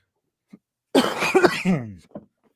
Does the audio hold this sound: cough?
yes